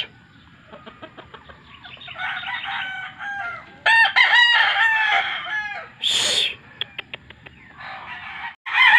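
Gamefowl roosters crowing at a breeding yard, several loud cock-a-doodle-doo calls in succession with clucking between them, no voices.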